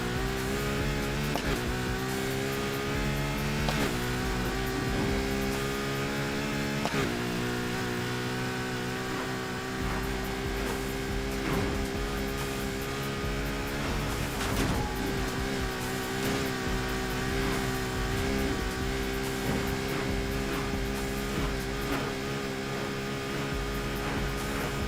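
Ferrari LaFerrari hypercar engine in Need for Speed Heat, loud and continuous, revving hard through the gears with sharp shift breaks and rising pitch sweeps at full throttle, with no talk over it.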